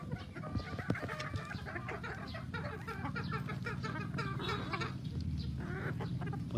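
Pullets on a Philippine breeding farm cluck and crow steadily throughout, a dense flock close by with overlapping calls and no talking.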